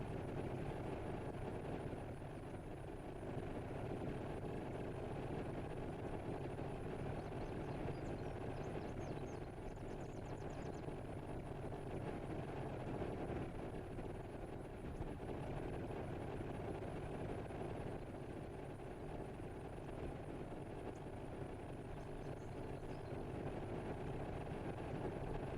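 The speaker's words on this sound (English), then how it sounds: "I will wait for Laxor's helicopter to disappear, meaning he's left" A helicopter in the DCS flight simulator drones steadily throughout, a constant engine and rotor hum with a thin high whine on top, with no talk over it.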